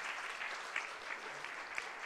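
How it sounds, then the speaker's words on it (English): Applause at a corporate awards ceremony, a steady, faint crowd clapping sustained throughout, heard from a distance with no talk over it. "May I request you all to give a big round of applause to the fourth set of category."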